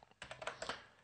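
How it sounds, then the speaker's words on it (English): Rapid keystrokes on a computer keyboard while entering a Linux configuration command on Fedora 23, a short burst of crisp clicks in an uneven rhythm, close and fairly quiet, with no talking. "If you're wondering how I'm typing in so fast, I'm just pressing tab for the autocomplete option"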